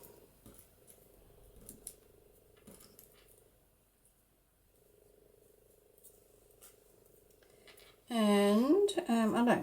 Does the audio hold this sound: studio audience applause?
no